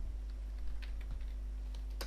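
Quick, uneven clicks of a computer keyboard tapping away over a steady low hum, fairly close and moderately quiet, with no voices.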